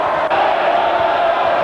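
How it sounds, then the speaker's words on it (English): A rugby league crowd at Wigan roars in a steady, loud, dense wall of voices that holds without a break, heard up close and filling the whole moment. "Great roar from the Wigan crowd"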